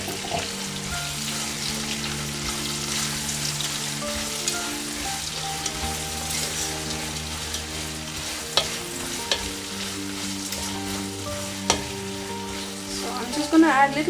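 Thinly sliced onions frying for beef biryani: a steady close sizzle in hot oil with occasional stirring clinks and scrapes, running on alone without talk.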